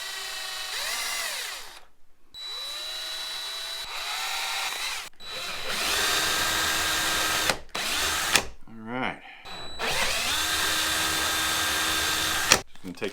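A power drill whirs in several bursts while fitting a heated-gear controller on a Harley-Davidson Road Glide motorcycle, revving up and winding down with short pauses between, close and loud.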